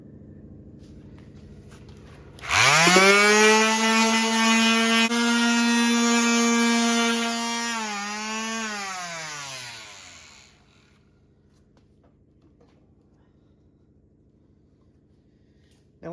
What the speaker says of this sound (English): I'll come in with the other small jitterbug sander, and I'll give it another sanding with like 80 grit